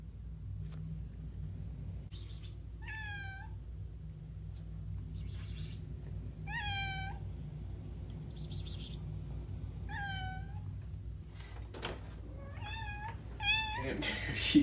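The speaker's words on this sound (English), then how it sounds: "my cat has been on the other side of this door just meowing and meowing for me" A cat meows repeatedly behind a closed door, four or five drawn-out cries spaced a few seconds apart, over a steady low rumble, the last ones coming quicker.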